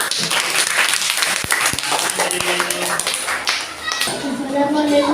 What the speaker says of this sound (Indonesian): beri applause untuk kelompok 6